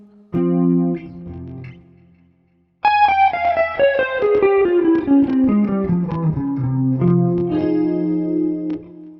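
An electric guitar plays a short chord, pauses, then a descending run of notes washed in echoing reverb and delay that hang and overlap.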